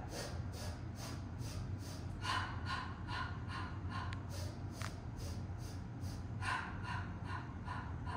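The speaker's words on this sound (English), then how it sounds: "So it's 5 sniffs in and 5 exhales." A series of short, sharp sniffing inhales and breathy exhales repeat in a steady rhythm during a Pilates mat workout, close to the microphone, with no talking.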